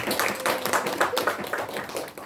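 Brief clapping from a group of teachers at an Indonesian school mentoring session, a short burst of uneven claps that rises and fades quickly.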